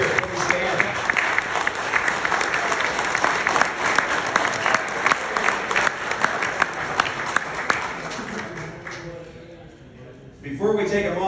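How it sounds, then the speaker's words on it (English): A crowd at a St. Jude charity golf tournament applauds volunteers with sustained, dense clapping and some voices mixed in. The clapping fades out near the end, then a brief renewed burst follows. "so we can get recognition, a little round of applause"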